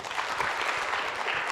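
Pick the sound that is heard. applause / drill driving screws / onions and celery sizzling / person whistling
applause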